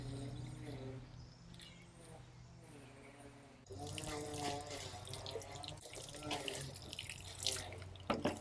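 Water from a new rain barrel is poured onto potting soil in a small GreenStalk garden planter, a steady close splashing and trickling flow that grows louder partway through, with no talk over it.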